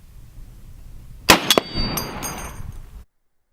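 A .50 caliber heavy sniper rifle shot strikes a stainless steel plate: one sharp crack, a quick second impact, then a bright metallic clang that rings and fades over about a second, no talking.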